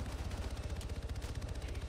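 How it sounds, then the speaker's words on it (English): Gunfire in the military video game Arma 3, a steady rapid rattle of shots continuing throughout, dense and fairly faint, as if coming from down a road some distance away. "we got fire coming in from just down the road"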